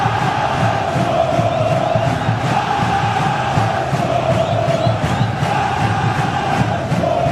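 Vasco football fans fill a stadium during a 2011 Copa Sudamericana match against Universitario, producing a steady, dense roar of chanting and cheering that holds without pause.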